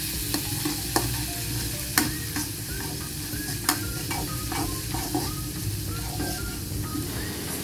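Sambal with a little ginger frying in a pan while being stirred, a dense steady sizzle with sharp periodic scrapes of the utensil against the pan, close and continuous, no talking.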